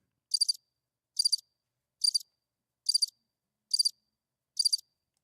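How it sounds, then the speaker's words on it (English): Crickets outdoors at night in a rural Alabama town: six evenly spaced, bright trilled chirps, each a short pulsed burst about a second apart against otherwise silent surroundings. "Where you can hear them crickets out there."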